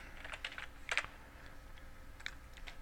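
Soft, close tapping on a computer keyboard as a name is entered: a few quick keystrokes, a brief cluster of sharper clicks near the start and a couple more near the end, with no talking.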